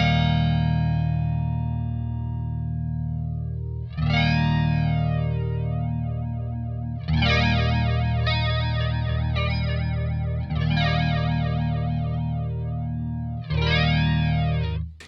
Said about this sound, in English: By having the speed right down, it gives it that comb filter sort of sound.